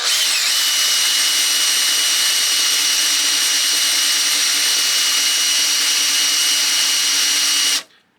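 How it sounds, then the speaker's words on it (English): A drill on low speed bores through the plastic body of a 1/12 scale Tamiya M1025 HMMWV RC model, giving a steady, close, high whine for about eight seconds before cutting off abruptly. "Do this on low speed on your drill so you don't melt the plastic."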